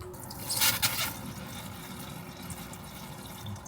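Water splashing and trickling from a cold tap being drained in a Hyundai Staria camper van for winter, a brief louder gush early on, then a steady quiet drain.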